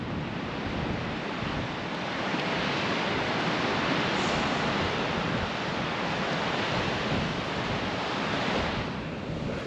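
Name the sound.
strong wind on a beach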